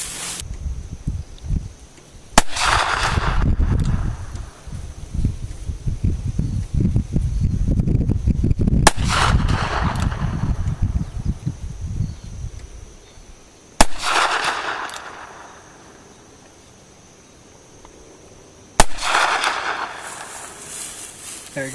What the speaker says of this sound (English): Last shot. 80 yards. Smith & Wesson Model 29 44 Special 6-inch barrel.